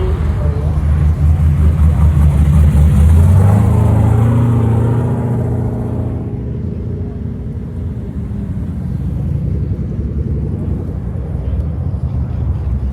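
A turbocharged car engine revs up loudly nearby at a car meet, pitch climbing then easing off as it fades into steady rumbling traffic noise.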